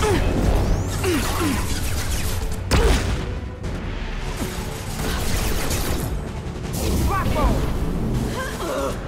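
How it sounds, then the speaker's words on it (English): A flashbang grenade and gunfire in the Mass Effect game crack and crash through a dense, loud firefight, with sharp blasts and whooshes layered over continuous combat noise and shouted voices throughout. "Watch out, flashbang!"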